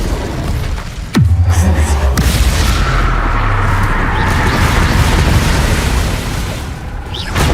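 Incendio fire spell cast in Hogwarts Legacy: a sudden deep boom followed by a sustained roaring, crackling burst of flame that stays loud for several seconds before easing off.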